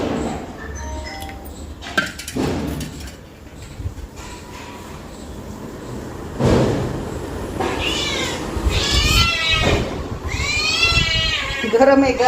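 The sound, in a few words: cat meowing for milk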